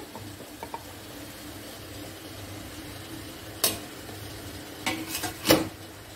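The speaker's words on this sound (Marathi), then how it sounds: "आता आपण इडलीचं प्लेट ठेवून देऊया." An idli plate of moong dal palak batter is set into a steamer pot over hot water: a low background simmer, then a sharp metal clink and a few clattering knocks.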